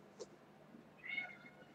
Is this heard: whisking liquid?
no